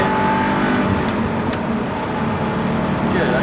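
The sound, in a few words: Audi R8 accelerating and revving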